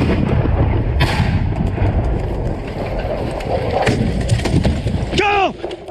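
Artillery fire during a barrage in Ukraine comes through as a sharp blast followed by rumbling booms and thuds over a noisy field background, with a voice briefly speaking near the end.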